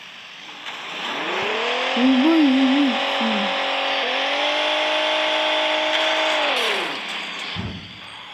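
A car engine in a car parking video game turns over and revs up to a loud, steady drone, holds for several seconds, then winds down. A short exclamation is heard early on.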